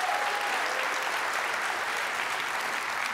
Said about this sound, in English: Give a round of applause to Neil Barnfather.